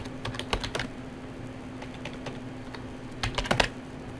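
Someone types a Linux install command on a computer keyboard, producing scattered clusters of sharp key clicks with pauses between them, close and fairly quiet, over a faint steady hum.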